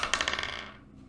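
D20 dice tumbling onto a tabletop during a tabletop game, a quick burst of bright clattering impacts that rattle and fade out within about a second.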